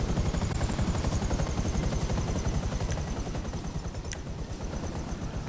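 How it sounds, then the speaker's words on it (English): The Akula stealth helicopter from GTA Online thrums with a steady, fast rotor chop, a continuous pulsing beat with a brighter whine on top that stays even and fairly close, plus one brief sharp tick near the end. "It's a goddamn stealth chopper."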